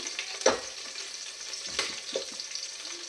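Cashews fry in hot oil with a soft, continuous sizzle, broken by a few brief clatters of a utensil, close but fairly quiet.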